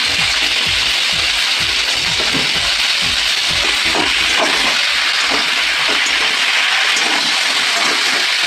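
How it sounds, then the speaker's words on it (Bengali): Spices sizzling with salt and turmeric in a pan while being stirred, a steady hiss of frying throughout with soft scraping stirs in the first half, continuous and fairly loud. "নুন হলুদের সঙ্গে একটু ভাজা ভাজা হোক"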